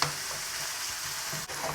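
Chicken pieces fry in a pan over high heat, giving a steady, close sizzle that fills the clip, with one brief scrape or stir near the end.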